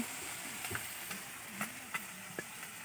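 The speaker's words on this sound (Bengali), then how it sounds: "চুনো মাছগুলো এখানে এই যে ভাজছি" Small fish frying in a pan give off a soft, steady sizzle, with occasional light clicks and scrapes from stirring, quiet and close with no talking.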